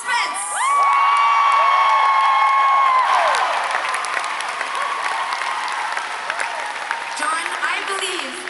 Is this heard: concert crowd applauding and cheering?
yes